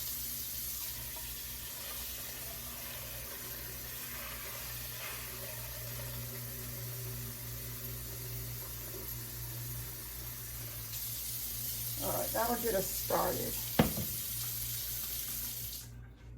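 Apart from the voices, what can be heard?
water running into a pan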